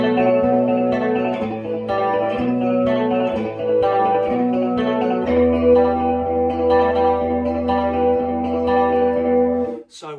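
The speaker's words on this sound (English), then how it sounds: "So with the chorus on, which is vibrato mode, and this, I think it sounds quite close personally" Electric guitar run through a chorus effect in vibrato mode, with some echo; a steady strummed chord progression with shimmering, wavering sustain plays loud and close throughout.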